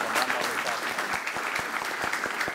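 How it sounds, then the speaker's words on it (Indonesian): Studio audience applause welcoming a guest on an Indonesian talk show, brisk and close with sharp individual claps standing out, steady for a few seconds. "Mohon tepuk tangan untuk Dirjen Perhubungan Darat Kementerian Perhubungan RI, Pak Joko Sasono"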